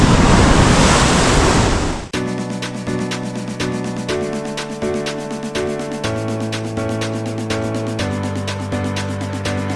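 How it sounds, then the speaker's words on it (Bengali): Sea waves break against the protective rocks around a shore temple at Mahabalipuram, a loud roaring wash with strong wind buffeting the microphone, then a sudden drop into a steadier surf rumble. "জাস্ট দেখুন কি ঢেউ আছে।"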